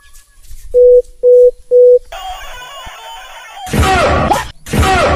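Phone call tones: three evenly spaced loud beeps, then a steady line tone, followed by loud, harsh bursts of sound near the end.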